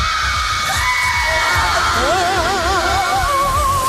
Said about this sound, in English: 3, 2, 1, scream!